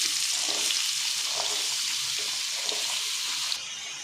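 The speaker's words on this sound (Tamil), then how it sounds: "இப்போ நம்ம வெங்காயம் போட்டு நல்லா வதங்கணும்." Onions sizzle steadily in plenty of hot oil for a dry fish curry, a dense, even crackling hiss close by with no talking.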